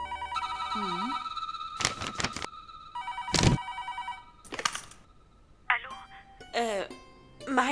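A telephone rings loudly in repeated electronic bursts, with people talking in between the rings.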